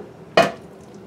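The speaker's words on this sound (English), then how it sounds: "what I'm gonna do is move it over to the cake pan a little at a time" A single heavy ladle of thick scrapple mush drops and scrapes into a cake pan, a short close wet thud-and-scrape burst standing out from a quiet kitchen.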